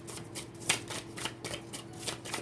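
Tarot deck shuffled by hand, soft rhythmic riffles and card slaps repeating every fraction of a second, quiet and close with no talk.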